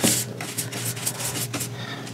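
Cloth rubbing antiquing wax off small wood pieces, brisk repeated back-and-forth strokes in a quick rhythm, close and clear with no talk.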